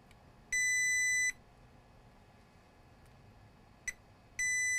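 A multimeter in diode mode beeps on a shorted Acer E5-575T laptop board: a sustained tone of under a second, a very short blip, then a longer tone starting again, clear over quiet room noise.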